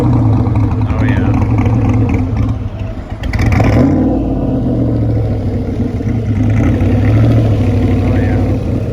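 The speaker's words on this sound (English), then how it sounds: "Be here to appreciate the sound of that big V8." A Panoz race car's big V8 roars past at Road America in Plymouth, Wisconsin, loud revving that swells and fades, with crowd voices and chatter mixed in throughout.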